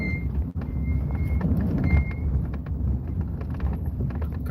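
A car drives along a one-way road, its engine and road noise a steady close wash with wind buffeting the microphone and a faint tonal beep in the background.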